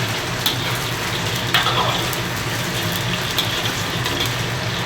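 About four jin of duck wings deep-fry in hot oil, giving a dense, continuous sizzle and crackle with small popping spikes, close and steady throughout.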